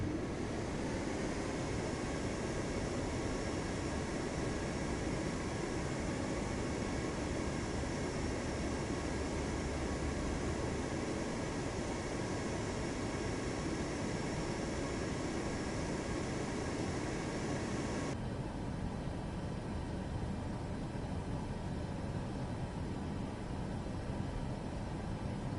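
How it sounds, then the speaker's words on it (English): Airliner engines hum steadily at low power while taxiing toward the runway at Chicago in a flight simulator, a constant faint whine and rumble with no talk, the tone dropping slightly in the later part. "taxiing to the runway for takeoff to Kansas City from Chicago"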